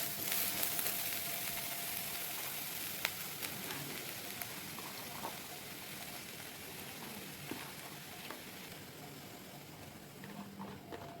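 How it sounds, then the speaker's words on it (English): Cabbage stir-fried in a pan with red chili, crackling in a steady, dense sizzle that holds at an even level with occasional sharper pops and faint stirring clicks, close by and without talk. "now we will add in the cabbage and stir"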